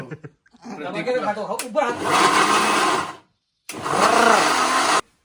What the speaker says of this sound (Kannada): ಆದ್ರೆ ನನ್ನ ಮಗನ ಹತ್ರ ಮಿಕ್ಸಿ ಇತ್ತು